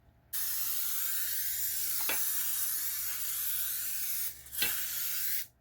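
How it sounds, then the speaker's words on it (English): Cooking spray hisses from a can onto a pan while cornbread dressing is being made, one long continuous spray followed by a brief pause and a second short burst, close and fairly loud. "I'm going to spray it with the pan."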